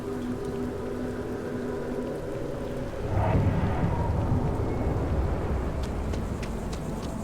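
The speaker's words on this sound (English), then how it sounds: "Ooh, it's raining." Steady rain pours down in the Starfield video game, with a rumble of thunder rolling in around the three-second mark and lingering under the downpour; no one speaks.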